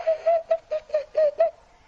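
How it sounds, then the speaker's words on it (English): A person whistles with an inward, inhaled breath, a series of about seven short wavering tones in an uneven rhythm, close and moderately loud, each note breathy and dipping slightly in pitch before fading. "I inward whistle."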